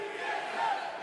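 A live studio audience at a League of Legends Worlds 2016 pre-finals show in Los Angeles cheers and shouts together in a steady, loud crowd roar lasting about a second, with no distinct speech.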